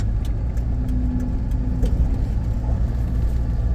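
Truck cruising at about 77 mph on a park road in Joshua Tree National Park, a loud steady engine drone and road roar heard from inside the cab, with no speech.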